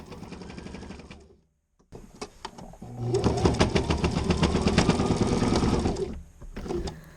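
Sewing machine stitching a lining to the top edge of a pair of trousers, a steady rapid mechanical whir with a brief pause partway through, then a longer louder run of stitching before slowing and stopping.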